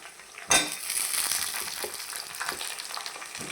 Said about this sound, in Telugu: ఉల్లిపాయ వేగిపోయింది కదండి, ముందుగా కట్ చేసి పెట్టుకున్న చిలకడ దుంప ముక్కలు వేసేసుకుందాము